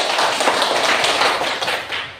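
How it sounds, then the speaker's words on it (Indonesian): A group of students in a classroom claps their hands together, a dense, steady patter of many hands close by that keeps going without a break before easing off slightly at the end. "Mari kita berikan tepuk tangan"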